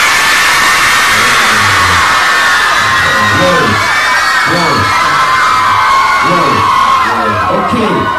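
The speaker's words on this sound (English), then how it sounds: "if all the ladies really want a t-shirt, I want to hear you scream at Star and all the ladies." A large crowd of women at a concert screams loudly and continuously, a dense sustained roar of high-pitched shrieks and whoops filling the space, with no talking.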